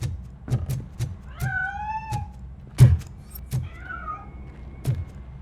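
A cat in the game RoboCop: Rogue City meows a few times, with short rising calls rising clearly over a steady low background hum and several scattered sharp knocks.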